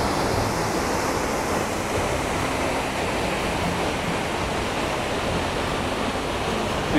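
Elk Falls waterfall roaring as a steady, dense wash of broadband noise, loud and continuous throughout with no speech audible over it.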